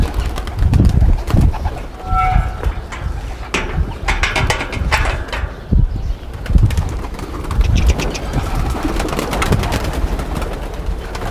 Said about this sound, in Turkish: Burası güvercin kümesi.